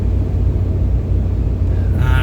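A Ford F250 Super Duty 6.7 Powerstroke truck rolls over bridge bumps on a windy day, giving a heavy continuous road rumble with faint periodic thumps and a brief brighter noise at the end.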